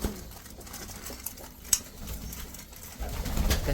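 Pigeons coo softly in a loft, low murmuring calls over a faint background with a sharp clack near the middle, close but quiet, with no talk.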